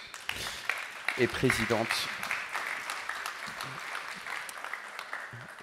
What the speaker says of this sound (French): on peut applaudir nos intervenantes,